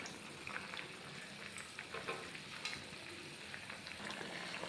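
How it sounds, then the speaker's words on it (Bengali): A pan of Bengali vegetable sukto bubbles and sizzles steadily on the stove, a faint, even crackling hiss with small pops, heard close and without voices. "দেখুন তরকারিটা কেমন ফুটছে"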